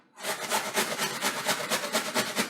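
Starchy potatoes being grated by hand for potato pancakes, a close, rhythmic rasping scrape repeating quickly and evenly, loud and alone without any talk.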